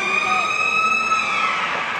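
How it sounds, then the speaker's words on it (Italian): A loud, steady siren signals the end of a break at a Serie C basketball game, sounding as a sustained tonal wail over crowd noise in the arena. "La sirena ci avvisa che i minuti di riposo sono finiti e che il quarto di questo derby sta per iniziare"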